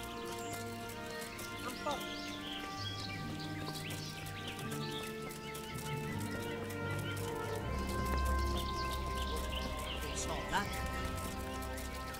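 Rhythmic hoof clip-clops from a black horse in the game Kingdom Come: Deliverance, under layered game music and ambience, with occasional bird chirps and a brief whinny.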